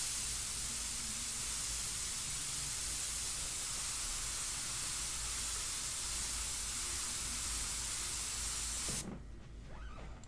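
An airbrush loaded with India ink is blown out in a steady, loud hiss of spraying air that runs about nine seconds before cutting off abruptly, leaving quieter background noise.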